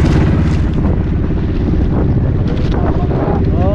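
Loud, blustery wind and strong waves batter a small fishing boat off Leyte, with a constant low engine hum and splashing surges throughout.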